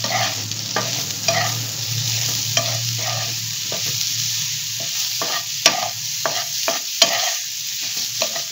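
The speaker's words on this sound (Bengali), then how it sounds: "এটা ভাজা হতে থাকুক।" Egg and sliced mushrooms with a sprinkle of salt fry in a pan, a steady sizzle broken by repeated sharp scrapes and taps of stirring, close and with no talking.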